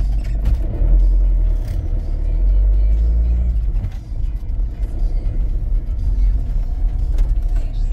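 Road rumble of a car driving past another vehicle, loud and continuous from inside the cabin, with heavy low engine and tyre noise and small scrapes.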